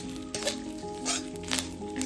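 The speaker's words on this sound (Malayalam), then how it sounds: "നല്ല ബ്രൗൺ കളറായി വരണം. അത് കണക്കാക്കിയാണ് ഇത് നമ്മൾ വറുത്തെടുക്കേണ്ടത്." Vada Koottu curry ingredients frying in a pan until brown, a close, busy sizzle with crackling pops and a faint underlying hum, no voices.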